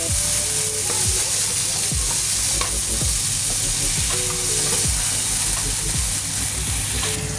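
Chicken and garlic stir-fried in a pan for spicy mala food, with a steady loud sizzle and repeated scraping strokes of a utensil across the pan, no talking.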